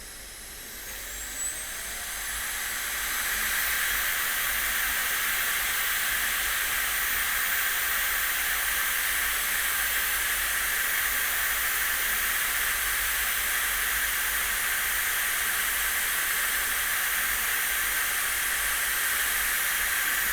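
A KiCA or JisuLife portable fan roars at maximum speed, a steady broadband whoosh with a high hiss that swells over the first few seconds, then holds loud and constant.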